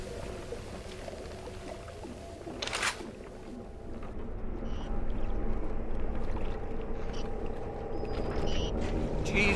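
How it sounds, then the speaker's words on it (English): Water leak in the BioShock video game: a steady rushing, pouring flow that swells louder partway through and keeps running, with a brief splash near the start and no speech. "I don't think that leak was there before."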